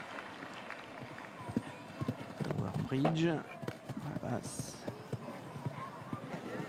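Horse hooves thud in a steady rhythm on a show jumping course as the horse strains hard with its hindquarters, muffled and moderate in level beneath constant French commentary and arena noise.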